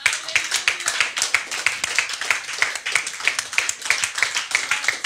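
A church congregation stands and claps in steady rhythmic unison to acclaim Jesus, sharp repeated claps filling the room with a faint murmur beneath.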